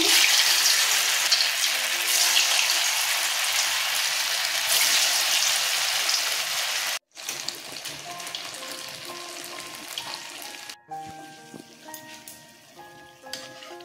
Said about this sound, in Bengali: তেল গরম হয়ে গেছে, কোপ্তাগুলো ছেড়ে দিচ্ছি।